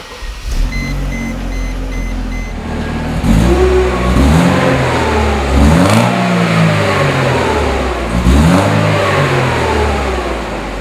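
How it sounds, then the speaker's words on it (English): A 1999 Mercedes-Benz SLK hardtop convertible engine cranks, catches and settles into an idle near the listener, then three sharp revs climb and fall back, each a rising growl over the steady running engine. "How about I start it for you? It's got a nice little growl to it"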